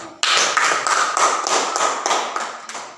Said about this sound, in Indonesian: kita tepuk tangan untuk kelompok 4